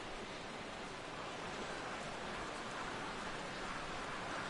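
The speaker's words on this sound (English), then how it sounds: "Well, the rain is coming down hard here." Heavy rain pours steadily over a ballpark in the baseball video game MLB The Show 17, a dense, even hiss with no letup and no voices over it.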